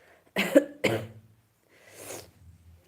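Two sharp, close coughs in quick succession from a person with a cold, followed after a pause by a softer, rougher cough or throat clear.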